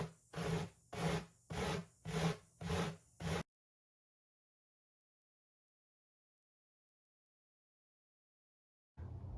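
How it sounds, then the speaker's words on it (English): A horse brush is rubbed down the edges of carved styrofoam to smooth them. Six steady, rhythmic scraping strokes sound up close, then the room goes silent before the rasping starts again at the end. "you're just going to run your brush down each side until it's smooth all the way around."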